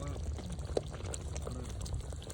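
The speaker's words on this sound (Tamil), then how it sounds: "கிரேவி எடுத்து வந்து அப்படியே ஊத்துறா." Chicken gravy is poured out in a soft, continuous wet stream at close range, with faint background voices and a brief small knock partway through.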